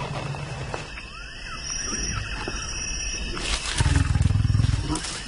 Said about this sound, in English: They're huge, powerful animals, and those growls and roars just rattle through your body.